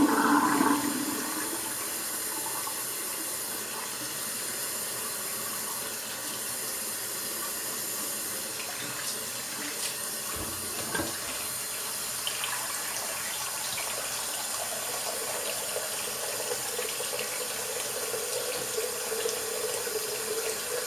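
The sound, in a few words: sink draining and tap water rinsing during wet shave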